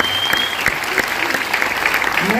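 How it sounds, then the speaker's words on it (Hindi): Crowd at a product sales seminar applauds, with dense, even clapping from many hands continuing throughout, and a voice briefly audible beneath it. "ऊपर वाले की भी ऐसी ताली बजाओगे।"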